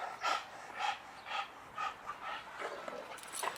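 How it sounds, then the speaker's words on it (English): A dog pants in quick, rhythmic bursts about twice a second, its breathing labored as if choking and struggling for air, moderately close with no voices. "Dog can't breathe."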